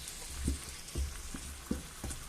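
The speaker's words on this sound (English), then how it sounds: "I'm going to add the potatoes in now" Potatoes go into a sizzling pot of mussel and fish stew, a steady hiss of frying punctuated by several soft thuds and clatters as pieces drop in and get stirred.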